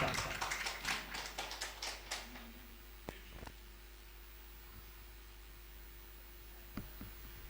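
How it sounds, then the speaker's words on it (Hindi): Audience at a Hindi-Urdu mushaira poetry gathering briefly applauding to welcome a poet, a short burst of scattered clapping over about two seconds that fades into quiet room noise with a couple of faint taps. "जोरदार तालियों से खैर मकदम करिए अल्तमश इरफान साहब का।"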